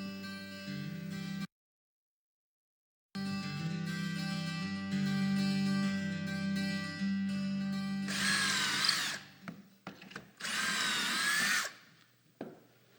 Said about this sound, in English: I made that hole using a really special drill bit.